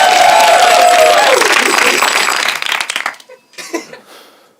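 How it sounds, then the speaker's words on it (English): An audience at a YouTube improv comedy show applauds and cheers loudly at close range. The clapping thins out into scattered, fading claps as it dies away. "Give him a round of applause, everybody."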